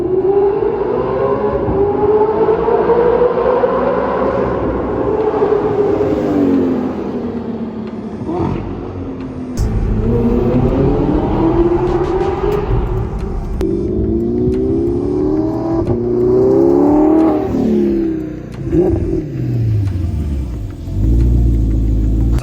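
Audi R8 with a V8 engine revving loudly and continuously, rising and falling through several swelling pulls with a deep rumble throughout, close by and alone without talk.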